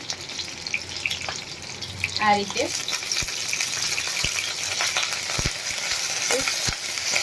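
Stuffed green chillies, Kathiyawadi style, sizzle in a pan as water is sprinkled in, giving a steady hiss with sharp spits and pops. A voice speaks briefly over the frying.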